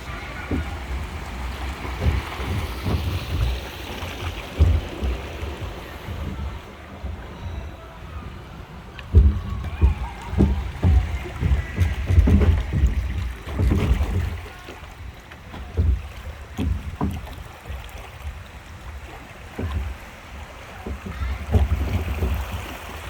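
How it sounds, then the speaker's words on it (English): A log flume boat glides through water at Santa's Village amusement park in New Hampshire, with steady sloshing, splashing and rushing water close by, and people talking intermittently over it. "This is definitely a real log flume"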